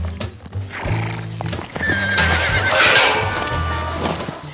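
A young, skittish horse on a ranch whinnies loudly and repeatedly, its neighs rising over a steady clip-clop of hooves moving close by.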